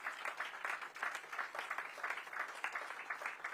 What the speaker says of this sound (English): I also want to give a big applause to the parents